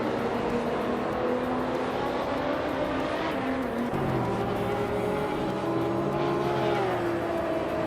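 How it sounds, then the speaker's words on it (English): A 2019 SSC Tuatara races among other cars in a video game, engines droning loud and steady with rising and falling revs and a gear shift midway. "Amundsen is racing a 2019 SAC Tuatara, known for its incredible speed and sleek design."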